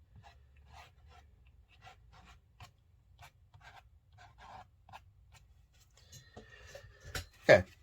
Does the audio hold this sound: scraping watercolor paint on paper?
yes